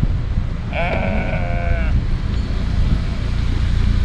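A sheep bleats once in a wavering, drawn-out call outdoors, with a fainter second bleat after it, over steady low rumbling background noise.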